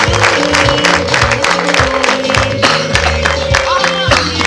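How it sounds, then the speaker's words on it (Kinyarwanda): Wedding guests applaud at a ceremony, a dense wash of clapping and crowd noise over music with a steady low hum, loud and continuous throughout. "Amashyi menshi yaboneka bazamurike."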